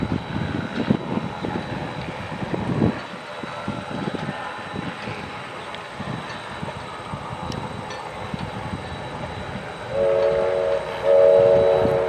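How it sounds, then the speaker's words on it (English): Strasburg Railroad steam locomotive number 89 approaches from the distance with a continuous rumble and chuffing, and a whistle sounds clearly near the end. "Finally, 89 shows up in the distance."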